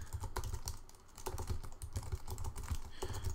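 Fingers typing on a computer keyboard while writing Markdown text, a steady run of close, crisp key clicks in quick irregular bursts with brief pauses between words.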